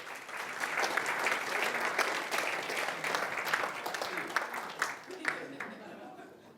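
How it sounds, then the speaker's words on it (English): A large live audience applauds steadily at a book-talk session, dense clapping filling the room and tapering off near the end, with a voice faintly present beneath it. "Give him a round of applause"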